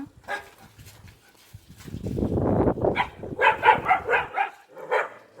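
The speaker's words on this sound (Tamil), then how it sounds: "நாயெல்லாம் சேர்ந்து குலைக்கி" Several dogs bark together near a large deer, a run of loud, rapid, overlapping barks with a short muffled rustling stretch between the early and later bursts.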